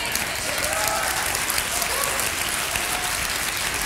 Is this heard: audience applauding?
yes